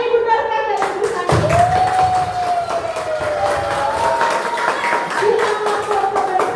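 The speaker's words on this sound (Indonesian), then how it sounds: "tepuk tangan buat Ibu Dorcas dan Ibu Sani." Children and adults clap together at a school gathering, a dense patter running throughout, while a gliding tone sounds over the clapping and voices mix in.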